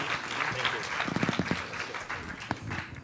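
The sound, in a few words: audience applause for panel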